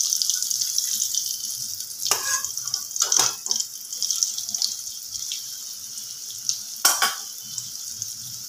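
Potatoes fry in oil in a pan with a steady, close bright sizzle, broken by a few brief scraping and clinking stirs; no one speaks.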